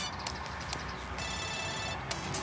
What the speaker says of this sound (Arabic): انت على فكره موبايلك بيرن بقاله كتير قوي.